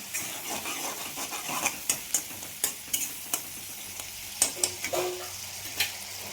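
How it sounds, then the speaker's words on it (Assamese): Onions and chillies sizzle in a pan with a soft hiss while a utensil scrapes and clacks against it in irregular strokes, close by. "এতিয়া এইখিনি মই অলপ সময় ভাজি থাকিম।"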